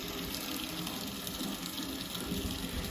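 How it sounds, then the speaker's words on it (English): Water flowing into a cistern at an off-grid site during an October snowstorm, a steady close gushing rush that continues unbroken without voices. "I can hear water flowing."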